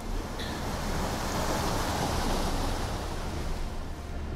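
River rapids rush in the Outer Wilds video game, a loud, continuous broadband roar of churning water that holds steady throughout with no speech.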